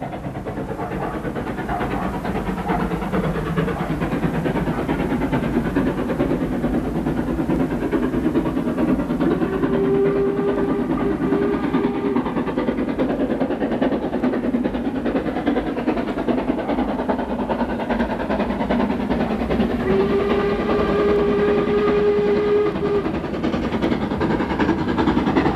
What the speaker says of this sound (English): Princess Margaret Rose climbs through Wilmcote en route to Birmingham.